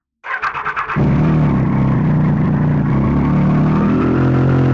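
A Triumph Street Triple 675 R motorcycle engine cranks with a few rapid chugs, then catches and settles into a loud, steady idle close by.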